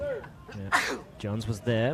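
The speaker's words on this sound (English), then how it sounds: "Gotta sneeze." A single sharp sneeze from a commentator at a mixed doubles pickleball event, sudden and close, set between stretches of ongoing speech.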